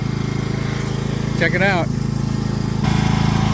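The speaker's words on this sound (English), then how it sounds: "Okay, so father-in-law's on the tractor," A Cub Cadet lawn tractor's small engine drones steadily and loudly while towing a 5x8 ft utility trailer, a continuous mechanical hum throughout, with a brief spoken remark partway through.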